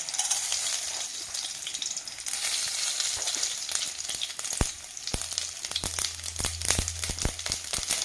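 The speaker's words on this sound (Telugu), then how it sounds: "తాలింపు గింజలు వేస్తున్నానండి." Tempering seeds crackle and sizzle in hot oil in a pan for a horse gram curry, a loud dense hiss with sharp popping bursts that grow thicker toward the end.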